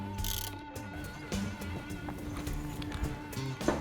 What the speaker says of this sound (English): You'll need a 17mm socket or spanner to tighten them up.